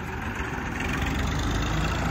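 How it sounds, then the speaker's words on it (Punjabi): An Indo Farm 2050 tractor, just back from hauling sugarcane to the mill, idles with a steady low engine rumble and mid-range chug that stays even and close, with no voices over it. "ਬਾਈ ਅੱਜ ਟਰੈਕਟਰ ਲੈ ਕੇ ਆਏ ਹੋਏ ਹਾਂ"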